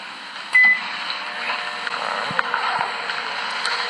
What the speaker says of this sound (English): because that microwave is on.